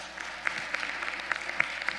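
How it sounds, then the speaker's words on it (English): An audience claps steadily for poetry slam contestants at a youth conference, with a dense, even patter and a few sharper claps standing out. "let's clap it up again for all the contestants"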